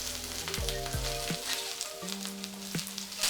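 Chicken pieces sizzle loudly as they brown in a skillet, with a steady frying crackle and a few brief tonal sweeps over it.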